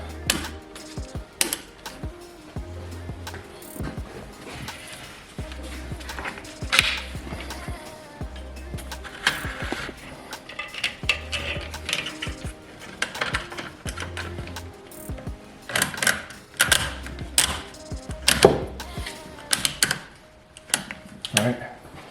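A ratchet strap mechanism is cranked tight on a Thule roof rack mount on a BMW E90 roof, giving irregular bursts of sharp close clicks with pauses between them. A voice talks now and then.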